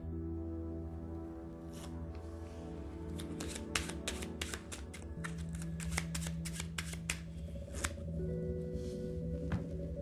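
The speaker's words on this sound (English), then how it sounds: "This is a false overhand shuffle." Rapid riffling and slapping of playing cards in a steady false overhand shuffle, repeated crisp snaps over a low background hum.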